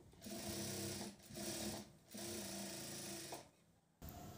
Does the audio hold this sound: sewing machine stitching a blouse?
yes